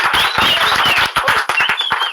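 A small group clapping loudly and close on a morning show set, brisk uneven claps running for a couple of seconds with a few cheers.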